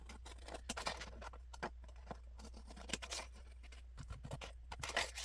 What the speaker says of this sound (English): Then you're going to take your scissors